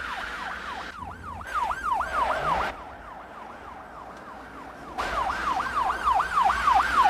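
A police car's siren wails during a high-speed chase, its rapid cycling yelp rising and falling steadily and loud, with engine and road noise swelling underneath.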